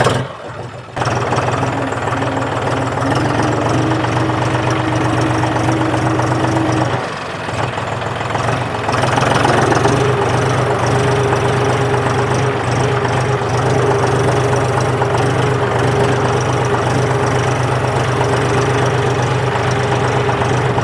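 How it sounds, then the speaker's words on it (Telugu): A 2025 John Deere 5045D PowerPro GearPro tractor idles at a showroom with a steady, low, throbbing engine rumble. The sound dips briefly about a third of the way through, then settles back into an even idle. "ఇక్కడైతే John Deere 5045D power pro gear pro vehicle అయితే ఉంది."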